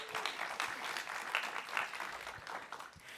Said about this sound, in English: So please join me in welcoming our panelists. Round of applause.